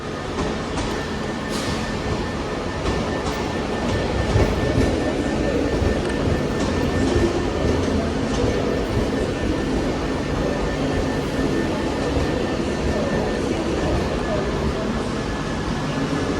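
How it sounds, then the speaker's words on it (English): An Avanti West Coast train for London Euston stands or moves at Manchester Piccadilly, giving a continuous rumbling rail noise with a steady tonal hum and scattered clicks throughout, while people talk faintly in the background. "This will be the 11:15 Avanti West Coast service to London Euston"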